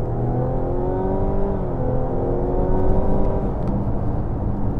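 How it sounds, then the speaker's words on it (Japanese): Mazda CX-60 accelerating hard in sport mode from inside the cabin, a loud continuous engine note rising steadily in pitch with road and wind noise beneath it. "スポーツモードにしてもう一度ちょっと中間加速を見てみたいと思います"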